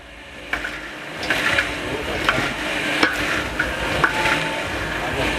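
Popcorn ingredients being stirred and mixed for a trolley popcorn machine, with scraping and clattering strokes at an uneven rhythm over a steady sizzling hiss, close and fairly loud.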